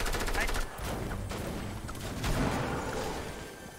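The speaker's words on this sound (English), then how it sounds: "why do I hear shooting so close?" Nearby gunfire in Fortnite, a quick rattling volley of shots followed by further sporadic bursts, loud and close.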